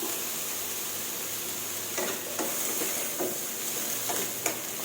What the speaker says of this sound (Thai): ผัดฟักให้พอสุกก่อนค่ะค่อยเติมน้ำค่ะพี่น้อง